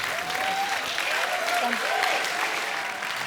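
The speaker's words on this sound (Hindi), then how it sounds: "जोरदार तालियां हो जाए एक बार।" A studio audience at The Kapil Sharma Show claps in sustained, dense applause throughout, with a voice calling out faintly over it.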